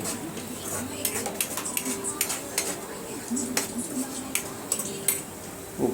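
Fish curry being stirred slowly back and forth in a pot, with soft scrapes and light metallic clinks of the utensil against the pot, spread irregularly over a quiet kitchen background.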